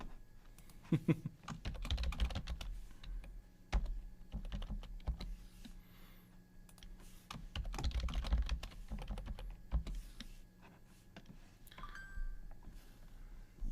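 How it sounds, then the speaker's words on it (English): Quiet typing of a password on a computer keyboard, scattered bursts of key clicks separated by pauses, with low room hum underneath and no talking. "I'm not gonna type my password out loud."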